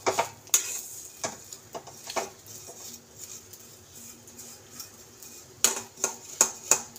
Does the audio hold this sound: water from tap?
no